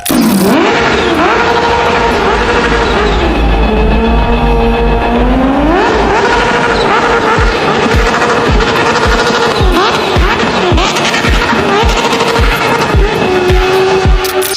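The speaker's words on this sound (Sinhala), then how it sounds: "ලෝකෙ වෙන කිසිම යතුරු පැදියකට කොපි කරන්න බැරි මේ අමුතුම චීප් සද්දේ" Supercharged Kawasaki Ninja H2 motorcycle engine, loud and close, revving and climbing through gears in rising sweeps with a whining, chirping character over a steady roar, no talk.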